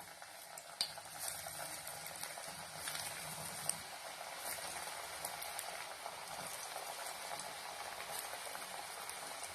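Moong dal vada patties fry in hot oil, a steady close crackle and bubbling sizzle that continues throughout with small pops and no voices.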